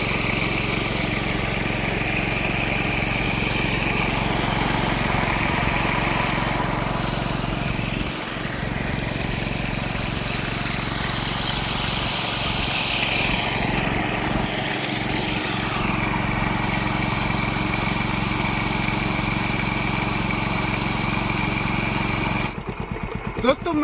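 A motorcycle engine drives a homemade well water pump in a rural setting, producing a continuous loud droning hum that holds steady for more than twenty seconds with no talk.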